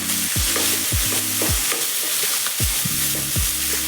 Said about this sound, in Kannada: ಶುಂಠಿ ಬೆಳ್ಳುಳ್ಳಿ ಸ್ವಲ್ಪ ಎಣ್ಣೆನಲ್ಲಿ ಫ್ರೈ ಮಾಡಿಕೊಂಡು ತುಂಬ ಚೆನ್ನಾಗಿರುತ್ತೆ